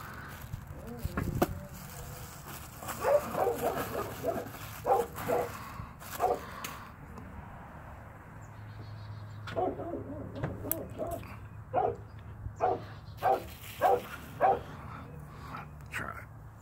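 A dog indoors gives repeated short barks and whimpering yelps in an irregular series, fairly faint and somewhat distant, with a steady low hum in the background.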